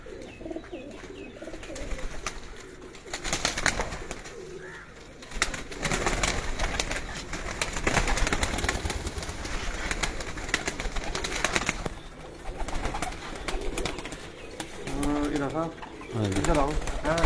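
Many pigeons coo steadily at a pigeon keeper's house, with soft fluttering and chirps mixed in. Voices talk intermittently over the birds throughout.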